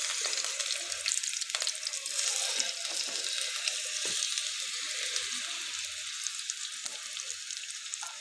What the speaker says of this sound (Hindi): अगर इस तरफ से फ्राई हो चुके हैं तो इनको प्यार से पलट लीजिए।